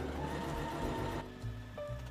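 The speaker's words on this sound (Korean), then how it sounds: "이제 페달만 밟으면은 자동으로 단추 구멍이 완성됩니다" Sewing machine running its automatic one-touch buttonhole stitch, a close steady mechanical whir with a rhythmic hum that shifts in pitch partway through, no voices.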